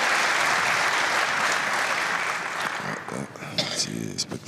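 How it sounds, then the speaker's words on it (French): Spectators applaud at a men's individual pétanque match in France, a dense sustained round of clapping that thins and fades near the end as a commentator's voice emerges. "Si les spectateurs ils applaudissent à chaque fois qu'il y en a un carreau"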